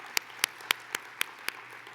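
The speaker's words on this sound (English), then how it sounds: "Yeah, that deserves applause." Scattered applause at an academic lecture: about six sharp hand claps at an even pace, faint and sparse, with no voices over them.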